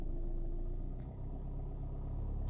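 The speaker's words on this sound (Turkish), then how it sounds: "gazımı veriyorum ve gidiyorum." An automatic car pulls away and drives off, giving a low, steady engine rumble close by that stays even and muffled, with no talking.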